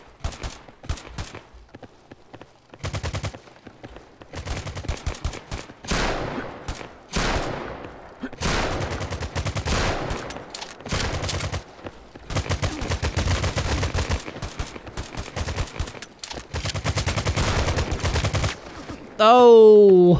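Rapid bursts of gunfire, including shotgun blasts, in a Counter-Strike-style shooter video game. The shots come in repeated sharp volleys with brief pauses between them.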